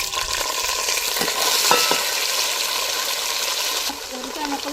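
Onion pieces sizzle loudly in hot oil for mutton curry, stirred steadily with a utensil scraping the pan; a dense, continuous frying hiss with brief stirring scrapes throughout.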